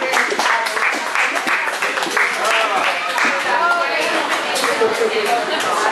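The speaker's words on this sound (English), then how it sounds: "Everybody give him a big round of applause." Audience at a live magic show in Ybor applauding a volunteer called up on stage, a dense, steady burst of clapping that fills the room, with chatter and a voice over it.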